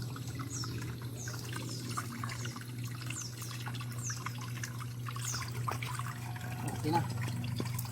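Water rinses sand off tuyom sea urchins, making a soft, continuous trickling, splashing flow with occasional light knocks.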